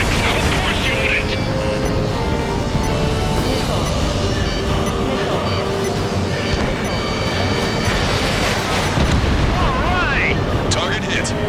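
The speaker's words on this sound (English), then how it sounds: "Confirming explosions. The rail cannon's been destroyed." Thunderous explosions and rumbling blasts from a rail cannon being destroyed in the combat flight game Ace Combat 7, layered with music and effects, with radio voices talking over the loud, continuous din.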